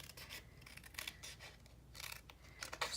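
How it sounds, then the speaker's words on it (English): Scissors snipping paper to trim a flap on a handmade mini album, a run of quiet, close cuts in irregular bursts with soft rustling between them, no voices. "retrim into that corner and cut off the extra from my flap"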